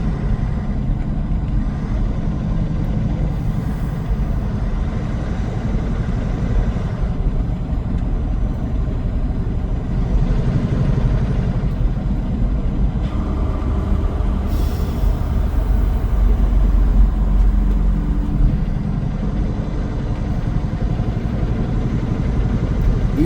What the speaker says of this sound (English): they like to just hear the truck